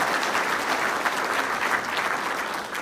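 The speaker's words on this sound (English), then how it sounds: "So give them a round of applause." Audience applause at a civic State of the City address, a dense, steady clapping from a crowd filling the whole stretch at even loudness.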